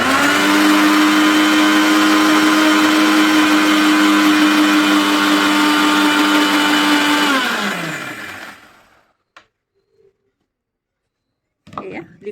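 A kitchen mixer grinder blends homemade mayonnaise from milk and refined oil for a bread sandwich, a loud steady whirring motor that holds for several seconds, then winds down and stops, leaving near silence with a few small knocks.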